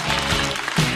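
A stand-up comedy audience bursts into dense, continuous applause, a loud crowd roar of clapping filling the whole moment without pause.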